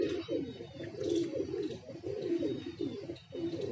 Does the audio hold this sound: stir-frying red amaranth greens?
no